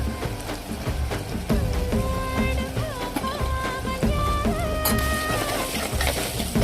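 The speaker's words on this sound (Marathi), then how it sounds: "त्यानंतर बारीक चिरलेला टमाटर, लसूण अद्रकाची पेस्ट आणि काही आपले घरगुती मसाले टाकून मसाल्याला छान असा शिजू दिला" Spiced onion-tomato masala with garlic-ginger paste and home-ground spices sizzles and is stirred in hot oil in a pan, a steady crackle beneath a melodic background tune.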